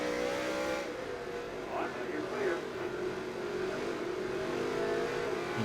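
NASCAR race car engine from the NASCAR Heat 3 game, a steady loud drone with rising and falling pitch sweeps as the car accelerates, running continuously under faint talk.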